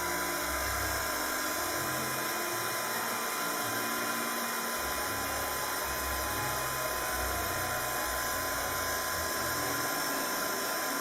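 A noisy, older embossing heat tool blasts steadily while drying embossing powder on a scrapbook-style Christmas wreath craft, a loud continuous whirring hiss that holds throughout with no talking.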